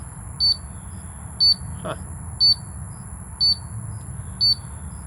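An oxygen (O2) meter alarm sounds five evenly spaced, sharp electronic beeps roughly once per second, close and clear over a steady low hum, with a brief murmur from a person partway through.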